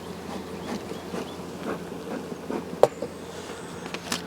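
Honey bees buzz softly around an opened swarm hive on a 40-acre homestead farm, a faint continuous hum with a couple of brief sharp knocks or clicks.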